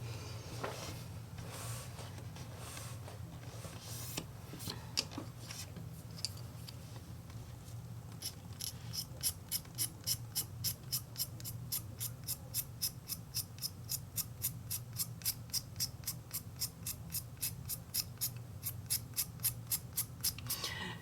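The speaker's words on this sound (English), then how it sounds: "I'm actually going to scrape some of these two colors, and I think I'll scrape both of them" A knife blade scrapes watercolor pencil lead onto paper in quick, steady, rhythmic strokes, close and quiet, after a stretch of near silence at the start.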